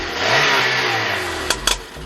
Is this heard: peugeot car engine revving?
yes